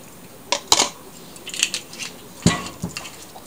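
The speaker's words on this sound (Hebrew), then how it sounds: "מה שאני עושה כעת זה רק מערבבת את כל החומרים" Olive oil, cheese and olives being stirred together in a bowl, with a few light clinks and scrapes of a utensil against the dish, close and sparse.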